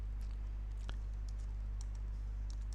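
Typing on a computer keyboard, sparse light key clicks at an irregular pace over a constant low electrical hum, close and quiet.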